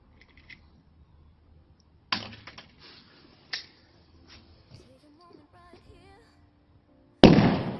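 An Akutsu Thunder B airsoft grenade goes off during a test: a few sharp cracks and scattered clicks, then a loud, close final burst at the end.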